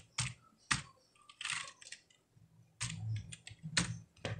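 Clicky computer keyboard keys typed in short bursts while an email address is entered, close and moderately loud with brief pauses between flurries of keystrokes.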